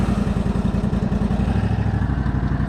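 A Toro ride-on mower's 24.5 hp V-twin engine runs close by, with a steady rapid thumping beat that rises a little as it revs, and no talk over it.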